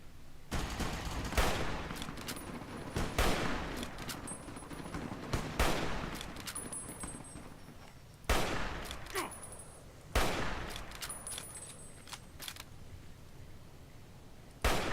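Rifle gunfire in the video game Fallout New Vegas rings out as a series of loud, sharp shots at irregular intervals, some in quick pairs, each with a short echoing tail.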